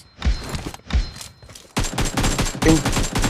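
Gunfire in the mobile battle game PUBG Mobile: loud, close bursts of rapid shots, two short volleys followed by a longer sustained stretch of automatic fire, with no voices.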